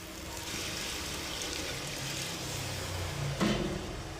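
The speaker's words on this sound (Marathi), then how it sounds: "थोडंसं पाणी घालायचं मसाल्याचं पाणी" A constant watery hiss of spiced water poured into a hot pan of frying masala, with one brief knock near the end.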